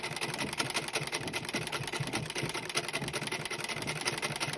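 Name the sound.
sewing machine stitching a hijab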